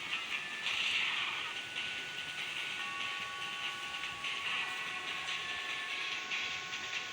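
A train in the video game Dead Rails runs with a steady rumbling hiss and faint rail clatter, thin whistle-like tones drifting over it, continuous and fairly close, with no talking.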